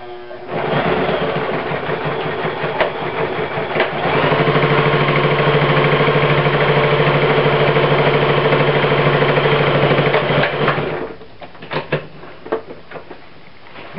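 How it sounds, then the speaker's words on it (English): A sewing machine runs a long, continuous stitch along a bivy bag seam, its close mechanical hum holding steady for several seconds before a few short bursts as it stops. "we're going to sew this seam down to lock it in place."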